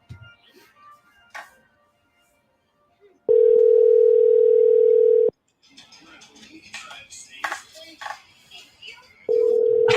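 Steady telephone dial tone while placing a blind call, sounding loud and continuous for about two seconds, then returning at the end, with talking and room noise in between.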